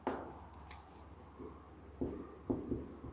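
Chalk or marker writing on a board during a Hindi grammar lesson, heard as faint scratchy strokes with a few sharper taps near the end, quiet and close.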